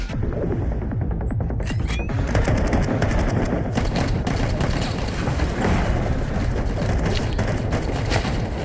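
Gunfire from a fight scene in the Devil May Cry anime: dense, continuous rapid shots and throbbing impacts fill the whole stretch at high level, with a few brief whistling streaks early on and no speech.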